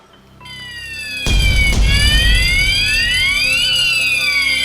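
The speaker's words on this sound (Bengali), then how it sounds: "ফায়ার অ্যালার্ম না?" A loud electronic fire alarm blares continuously, its piercing tones sweeping up and down after a brief quieter start.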